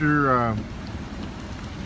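Steady rain falls as a dense, even hiss, just after a brief tonal sound at the start.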